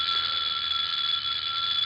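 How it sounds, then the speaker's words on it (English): In a 1946 radio drama, a doorbell rings continuously with a bright, sustained metallic trill, loud and steady throughout, heard alone without voices. "The sound of the doorbell was like an iron spike through my stomach."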